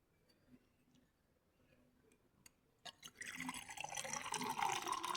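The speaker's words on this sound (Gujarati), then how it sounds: "તો થોડુંક પાણી પી લેવી." Water pours and sloshes steadily and close by after a few seconds of near silence, as someone outdoors near a Mahadev temple drinks.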